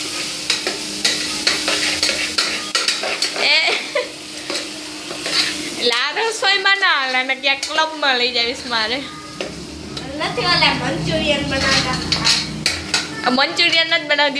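Khichdi with vegetables and mustard seeds being stirred in a pot: continuous close scraping and clattering of a spoon against metal under a steady sizzle, with faint background voices in places.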